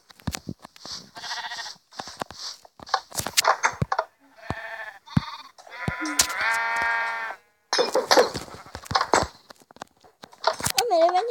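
Sheep bleat repeatedly in a video game, a rapid series of loud, close bleats with game sounds between them.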